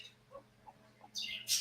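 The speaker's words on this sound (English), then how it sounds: "Is that birds in the background? Yeah, parakeets." Pet parakeets, a caged pair, give a few soft chirps near the start, then two brighter, louder bursts of high tweeting close together toward the end, with no talking.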